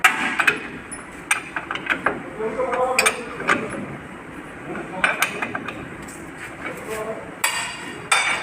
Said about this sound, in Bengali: যেখানে আছে এখানে নাটটা টাইট দিয়ে দিতে হবে।